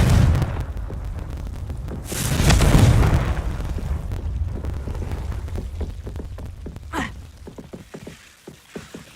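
Confringo explosion spell cast in the video game Hogwarts Legacy, a loud booming blast that swells and rumbles for several seconds, followed by crackling pops and debris as it fades.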